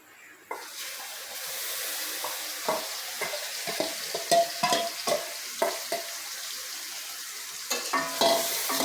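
Cumin paste, onion paste, chili powder and turmeric fry in a pan under a close, steady sizzle, broken by a run of short rhythmic scrapes as a spatula stirs them, with no speech.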